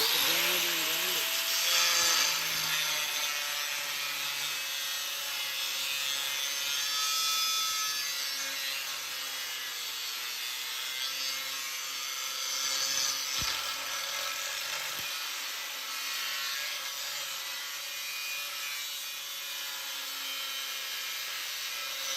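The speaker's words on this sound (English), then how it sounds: "We're going to fire up the grinder and grind it." An angle grinder whines continuously and close while cutting into a clamped piece for a deer skull mount hanger, its pitch dipping and recovering as it bites into the material.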